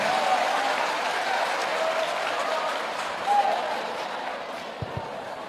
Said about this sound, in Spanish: un aplauso para el hermano